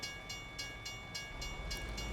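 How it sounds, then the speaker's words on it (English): A short train passes in the American Truck Simulator video game, with rhythmic clickety-clack wheel beats on the rails repeating steadily over a low rumble, fairly faint and with no talk. "That was a short train."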